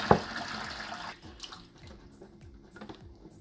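Water pours into honey for making raspberry mead, a brief splashy gush at first that quickly settles into a softer, steady trickle with small bubbling sounds.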